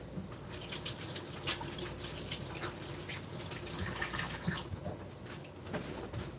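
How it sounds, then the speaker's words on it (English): Running tap water splashes steadily over hands at a kitchen sink, a continuous broadband wash with small drips and sloshes, close and moderately quiet, with no talking. "Let me wash my hands again."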